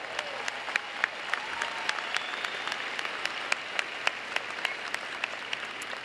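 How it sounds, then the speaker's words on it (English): A commencement audience gives a sustained round of applause, a dense even wash of many hands clapping for about six seconds with crisp individual claps standing out, no voices rising above it. "Please join me in a round of applause."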